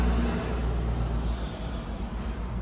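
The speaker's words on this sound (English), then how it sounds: "it's in the middle of the day and it's a lot of traffic" Steady daytime road traffic on a busy street, a continuous loud rumble of passing cars and trucks with no gaps, dominated by low engine and tyre noise.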